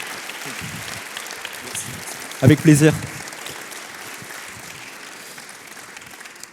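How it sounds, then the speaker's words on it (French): Audience applauding a speaker at a mentoring evening, a steady roomful of clapping that runs throughout, with a brief spoken reply cutting through near the middle. "Je pense qu'on peut t'applaudir."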